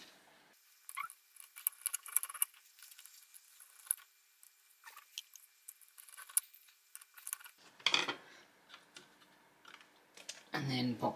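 Small screws being driven into a Raspberry Pi 400 plastic case, with quick clicks and light taps of a screwdriver, then a couple of louder rustling handling bursts near the end.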